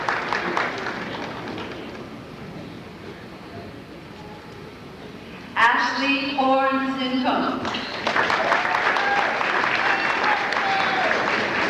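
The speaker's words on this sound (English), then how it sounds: "one more round of applause for these graduates" Graduation ceremony crowd applauding in a hall, a steady sustained wash of clapping that swells louder in the later part, with a brief musical or voiced interlude midway.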